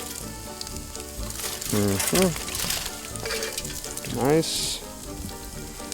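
Thick cut bacon sizzles on a kettle grill, a steady crackling hiss running beneath a man's close, casual talk.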